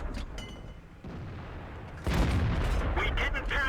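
A KV-5 heavy tank battle in World of Tanks, with a loud cannon shot about halfway through that lifts the level, set against constant rumbling battle noise while someone commentates over it.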